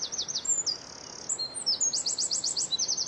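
Springtime birds in the Belgian countryside sing bright, high chirps and trills in quick repeated bursts, fairly close and clear over a quiet background.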